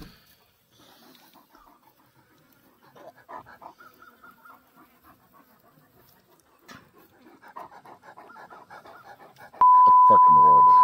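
Dogs panting near a stinky fish challenge, a steady soft panting rhythm running under people talking, with a loud beep near the end.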